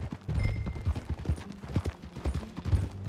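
Horse hooves clip-clop steadily in Red Dead Redemption 2, a rhythmic trot of hollow knocks close by over low ambient rumble, with no talking over them.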